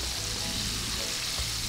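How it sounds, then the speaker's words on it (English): Chicken fries in a pot of hot oil outdoors for Jamaican fried chicken, giving a dense, even sizzle that holds steady and close with no other sounds. "Now the chicken is finished frying, I'm going to remove the first batch of chicken from the oil"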